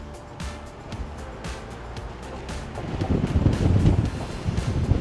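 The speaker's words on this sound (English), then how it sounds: "we got a little bit of a windy day," Wind over Lemon Bay in Englewood, Florida, a constant rushing hiss that swells louder in the second half, close to the microphone and alone.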